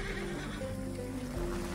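A horse in Red Dead Redemption 2 lets out a brief, close whinny during a hurried escape after a shootout, with faint hooves and ambient game noise around it.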